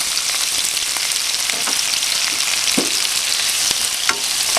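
Tomatoes, onion and garlic fry in a pan for milkfish apritada, giving a dense, constant sizzle with occasional crackles and stirring scrapes, close and fairly loud.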